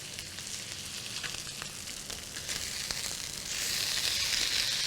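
A fish fillet frying in a hot pan, a continuous crackling sizzle that grows louder and hisses more brightly toward the end, with a few small pops and taps, no voices.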